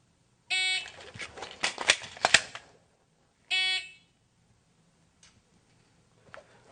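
A shot timer beeps during a dry-fire pistol drill, a sharp electronic tone followed by clicks and handling noise, then a second beep, with a few faint taps after.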